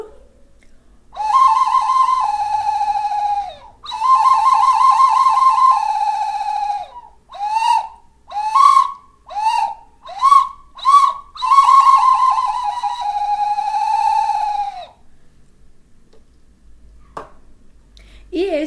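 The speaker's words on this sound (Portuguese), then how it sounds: "Aqui eu tenho 3 tipos diferentes de apitos, todos feitos em madeira." A wooden whistle is blown close up: two long warbling tones, a string of quick short toots, then another long wavering blast before it stops.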